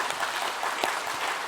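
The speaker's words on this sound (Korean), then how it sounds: "우리 격려 박수 한번 하겠습니다." A church congregation gives the choir a round of applause during Sunday worship, with dense, steady clapping at fairly close range that lasts throughout.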